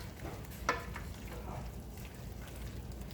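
Chicken and shrimp pasta with bacon stirred in a pan over lowered heat, a soft continuous sizzle with a few light scraping strokes, close and faint.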